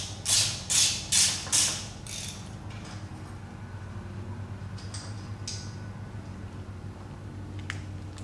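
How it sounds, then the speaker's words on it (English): Spark plug covers being pulled off a Subaru WRX engine during an engine swap. Four quick, sharp creaking clicks come close together at the start, then a low steady hum with a few faint clicks later on. "I'm just taking off the covers to the spark plugs, which connect the wires that are hanging down over there."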